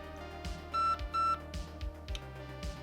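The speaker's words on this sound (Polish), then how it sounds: "co replika potwierdzi sygnałem dźwiękowym" An airsoft replica, a Zion Arms PW9 Mod 1 pistol-caliber carbine, gives two short electronic beeps confirming exit from programming mode, faint and close, among soft clicks and handling noises.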